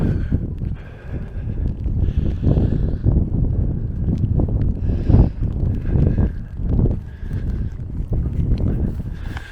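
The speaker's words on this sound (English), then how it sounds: "although we do have wind coming from this direction, it's fairly sheltered" Wind blows steadily past a wild camp pitched beside a tent at Cluther Rocks, a continuous rushing with gusty swells and buffeting thumps close to the microphone, with no voices.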